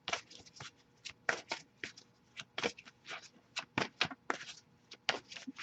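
Cards being shuffled in repeated riffling bursts, crisp papery flutters up close with short pauses between them.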